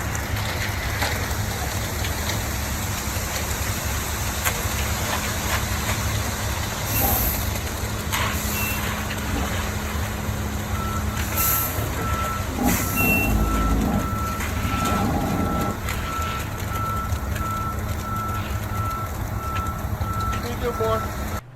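A concrete truck works while pouring a foundation for a grain bin house, its reversing alarm beeping repeatedly over a continuous engine rumble and a broad, rain-like hiss.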